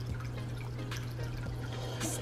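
Aquarium water dribbling and dripping as a sponge is squeezed back into a home fish tank, soft trickles and a few splashy drips over a faint steady hum, quiet and close.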